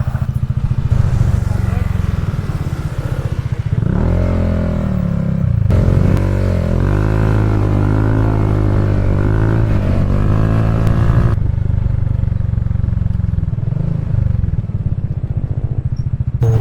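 A motorcycle engine drones steadily and strains, its pitch rising and falling as it climbs a steep hill under load, with wind noise throughout.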